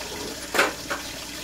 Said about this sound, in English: And then I add cold water.